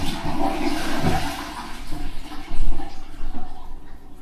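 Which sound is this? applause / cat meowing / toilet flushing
toilet flushing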